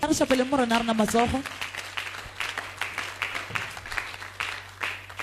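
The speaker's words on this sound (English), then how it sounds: "Let's clap for Master." A church congregation at a Friday deliverance service claps in a steady, mid-level patter after a singing voice fades out at the start, with scattered voices over the clapping.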